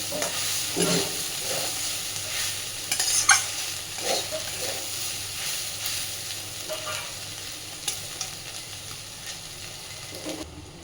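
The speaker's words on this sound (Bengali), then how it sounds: "বেশ কিছুক্ষণ সময় নিয়ে মিডিয়াম ফ্লেমে খুব ভালোভাবে এটাকে আগে ভেজে নেব।" Fish fat sizzling in oil in a pan over a medium flame, a steady frying hiss with occasional scrapes of a spatula and clinks against the pan.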